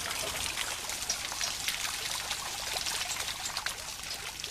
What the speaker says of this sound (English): The water acts like the weight on the church clock, pushing the escapement wheel round.